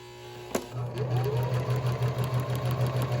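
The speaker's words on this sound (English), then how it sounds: "Like I said, there's no back stitch, so I'm just going to do a straight stitch." A sewing machine runs a straight stitch on fabric with no back stitch, starting with a click and then whirring steadily in a fast, even, pulsing rhythm, close and alone.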